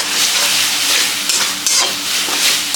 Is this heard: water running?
no